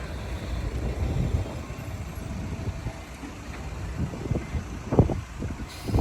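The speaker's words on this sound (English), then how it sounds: "That's the depot through the day. That's where all the trucks get loaded." Trucks rumble and idle at a loading depot in Brisbane, a moderate low engine drone with a few sharper knocks and hisses near the end, no talk.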